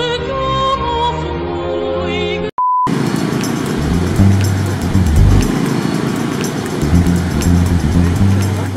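Motorbikes and scooters drone through street traffic in Vietnam, a dense engine hum with rising and falling revs. A short electronic beep cuts in near the start, after a stretch of tonal sound.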